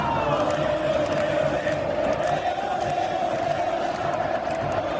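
Football fans in a stadium roar and chant together in a dense, sustained wall of cheering that stays loud and steady throughout.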